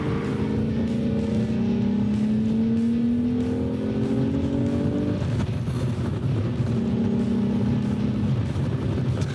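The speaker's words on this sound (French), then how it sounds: "Le VR6 a un son vraiment exquis." A VW Corrado VR6 engine revs up and down inside the cabin, its pitch climbing, dropping, then rising again with a smooth, throaty growl.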